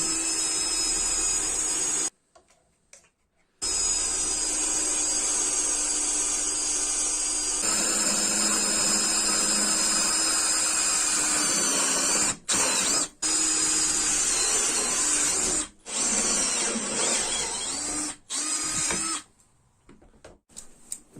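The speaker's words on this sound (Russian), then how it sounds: "Переключаем режим сверления и начинаем сверлить." A cordless drill-driver in drilling mode bores a hole with a 6.5 mm bit, a loud steady whine running in long bursts separated by short pauses, near and alone.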